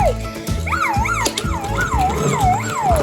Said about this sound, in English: There's the police car coming in.